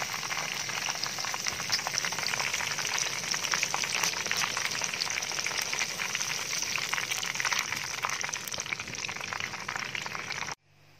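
Chicken 65 pieces deep-frying in hot oil on their second fry, a loud steady bubbling sizzle filling the whole stretch before cutting off abruptly near the end.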